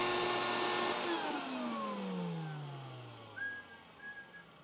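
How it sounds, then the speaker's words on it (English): Vacuum cleaner driving suction in a 5-gallon bucket to draw used vegetable oil from a grease dumpster, a whining motor that winds down in falling pitch, followed by faint short whistling tones. "I use a vacuum cleaner to create suction in a 5-gallon bucket and stick the hose attached to the bucket in the grease dumpster"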